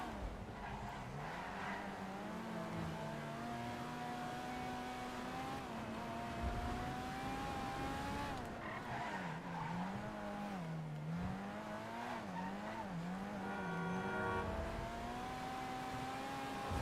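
Car engine in GTA Online revs and shifts continuously through a late-night race, with wavering pitch climbing and dropping, tires skidding and squealing at times, loud and close with no talk over it.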